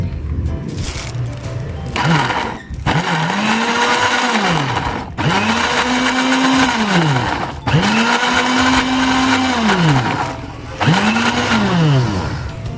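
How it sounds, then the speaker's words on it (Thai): A blender grinds pieces of fingerroot (krachai) in loud repeated bursts, its motor pitch dipping and rising with each pulse, close and dominant throughout. "เราจะปั่น กระชายก่อนเนาะ เพราะว่ากระชายก็เป็นชิ้น ปั่นกระชายให้ละเอียดก่อน"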